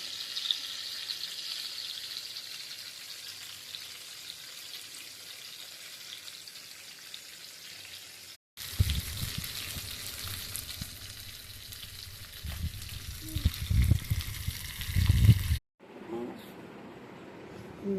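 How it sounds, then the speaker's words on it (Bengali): Fish frying in hot oil in a small fryer pan: after a quieter opening, a loud crackling sizzle erupts, then bursts and pops for several seconds before cutting off, with voices around it. "এখন আমরা তেলে ছেড়ে দেবো মাছটাকে"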